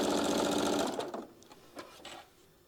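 A sewing machine runs in a fast close mechanical whir for about a second while putting a few stitches into quilt fabric, then slows to a handful of separate clicks and thumps before stopping.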